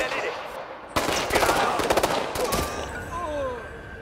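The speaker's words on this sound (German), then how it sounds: "Ich glaube, das waren zwei Headshots." Gunfire in the video game Ghost Recon Future Soldier: a sharp burst of rapid shots after a moment of quiet, followed by a few more cracks and a fading tail.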